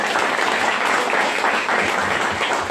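An audience at a Santrendelik gathering in Semarang gives a lively round of applause, a thick, continuous wash of clapping that stays loud and even from start to finish.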